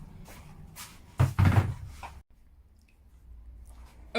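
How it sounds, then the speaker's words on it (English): The lid of a DIY hybrid composting toilet slides off its hinges, giving a short burst of close scraping and knocking clatter followed by near silence. "And then I can take the lid off"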